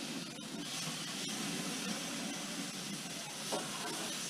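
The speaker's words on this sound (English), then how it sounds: "I give it a quick sear on one side directly in the flame" Tri-tip steak searing directly in an open flame gives off a faint, steady hiss and sizzle that runs continuously without breaks, quiet and even from start to finish.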